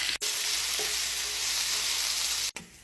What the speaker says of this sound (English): Chop your onions and give them a boiling oil bath.